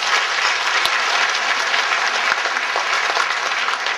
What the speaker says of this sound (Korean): 복된 잔치를 마련하게 하신 우리 하나님께 감사의 박수를 드리겠습니다.